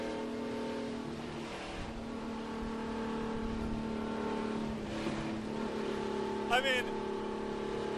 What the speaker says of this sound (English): was that your rev